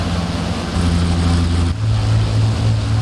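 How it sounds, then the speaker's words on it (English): Aircraft piston engine over-revving in a flight simulator after losing its prop governor, a loud sustained droning whine that shifts abruptly to a higher, harsher pitch partway through. "I think he killed his engine there."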